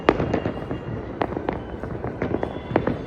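Festival firecrackers go off across Ahmedabad during Uttarayan, a rapid irregular string of sharp bangs and crackles, some near and some farther off, with no one speaking.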